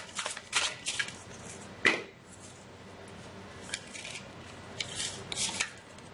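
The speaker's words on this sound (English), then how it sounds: "Let's get a clarifying card for each of these cards here." Tarot cards are handled close up: a few quick shuffling riffles and sharp snaps as cards are pulled and laid down, separated by quiet pauses, with no talk.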